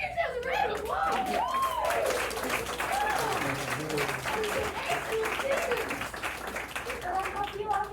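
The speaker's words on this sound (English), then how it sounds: "I think it says a round of applause." Audience applause at a live show following a song, dense and continuous clapping with scattered chuckles and crowd voices mixed in throughout.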